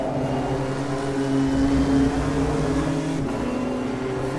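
BMW race car engines in Automobilista 2, a steady, droning high-revving roar from several cars running close together, with a brief shift in pitch near the end and no talking.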